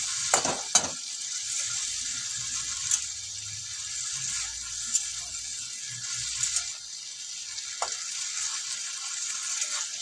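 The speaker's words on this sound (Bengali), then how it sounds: "এবার একটু ভাজা ভাজা হবে, এটা একদম মশলাটা কষানো হয়" Spices fry at low heat in a pan for a barbati bean dish, a quiet continuous sizzle broken by a few sharp clinks and scrapes of stirring.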